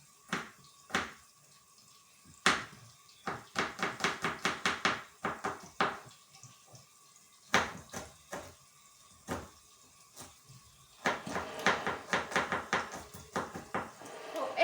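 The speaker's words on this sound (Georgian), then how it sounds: "დავჭერი, ნიორიც დავჭერი" Garlic chopped with a knife on a cutting board in a home kitchen, crisp close knocks in quick irregular flurries separated by short pauses, with no talk.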